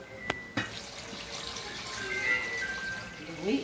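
Meat broth is poured into a cooking pot, a soft, continuous liquid trickle and splash that swells toward the end, preceded by a couple of sharp knocks near the start.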